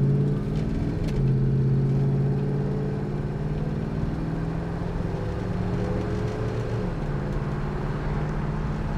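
A 1967 Dodge Coronet 500 with automatic transmission pulls away under light throttle, its engine drone rising and dropping as it shifts smoothly through the gears, heard steadily from inside the car.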